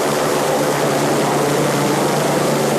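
The Otago rescue helicopter arrives at Queenstown Lakes District Hospital carrying climbers rescued after an avalanche on Mount Earnslaw. Its rotors and engine make a loud, steady, close whirring roar with no voices.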